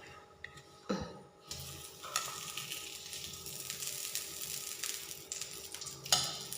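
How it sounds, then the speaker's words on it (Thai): Pork lard heats in a pan before an egg omelette is fried, giving a steady close sizzle and crackle throughout, with a few clinks of a utensil against the pan near the start and toward the end. "เดี๋ยวเราจะไปทอดไข่แล้วกันเพื่อจะทำแกงจืดไข่สลายเดี๋ยวเราจะมาตั้งน้ำมันกันเนาะ"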